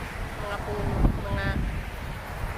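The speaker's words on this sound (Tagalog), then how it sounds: "Lakas ng hangin. Narinig nyo guys." Gusty wind roars steadily across the microphone, with a brief louder rush midway and faint voices underneath, with tree leaves tossing.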